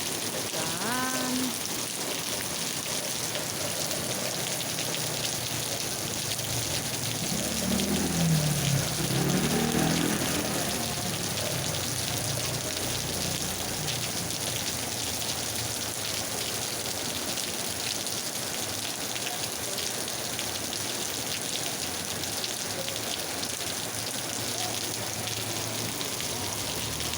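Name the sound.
rain falling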